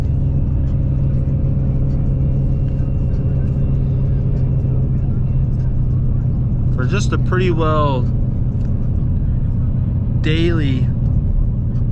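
A Vortech-supercharged Ford Mustang with a Lund Racing tune cruises on a street, its engine a steady, loud drone and rumble throughout while someone talks over it.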